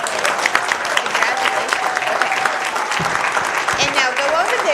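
A room at a school board workshop meeting applauds state and national Spanish spelling bee competitors, with steady, dense clapping that carries a few voices and cheers mixed through it.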